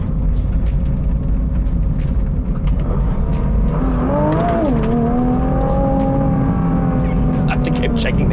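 A Nissan GT-R Nismo engine roars loudly and continuously, with the pitch climbing and shifting as it revs under hard acceleration.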